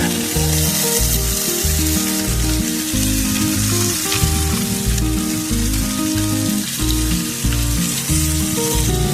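Potatoes fry on a flat-top griddle with a loud, continuous sizzle and crackle, close and steady throughout, with no voices.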